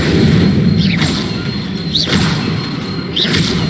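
Spell effects cast in Hogwarts Legacy, with three loud whooshing bursts of the Incendio fire spell at regular intervals over a steady dense rumble.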